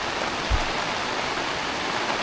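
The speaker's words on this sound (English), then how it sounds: "Another good downpour just rolled in." Heavy rain pours down on a mountaintop campsite during a storm in a steady, even hiss, with a single soft thump early on.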